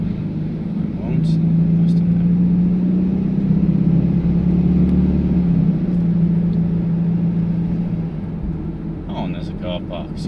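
A Hymer S500 motorhome van on the road produces a steady mid-pitched engine drone that swells and holds, then eases off near the end, with cabin and road noise and someone speaking over it briefly.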